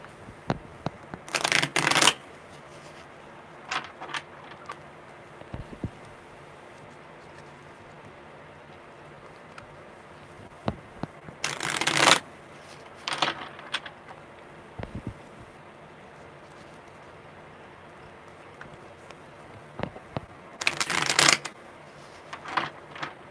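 A deck of tarot cards is shuffled in three quick riffling bursts spaced several seconds apart, crisp and close, with softer card taps and handling sounds in between.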